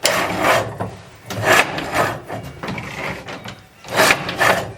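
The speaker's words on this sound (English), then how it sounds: "But it's still just the old-fashioned hand loom." Rhythmic wooden clattering and rasping from an old hand loom mechanism at a textile mill museum in Helmshore, Lancashire, recurring in bursts with short pauses, close and fairly loud, with no voices.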